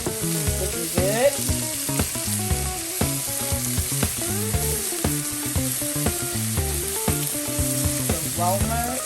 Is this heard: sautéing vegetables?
yes